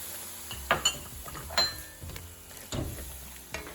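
A spoon stirs chicken pot pie filling in a pan after wine goes in over medium heat, with soft sizzling and several sharp clinks and scrapes against the metal, close and without speech.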